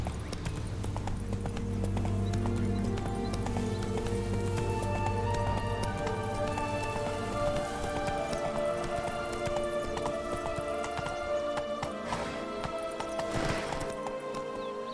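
A horse gallops in The Witcher 3: Blood and Wine, its hooves clip-clopping in a steady, loud, close rhythm over a continuous musical score, with a brief whinny-like note.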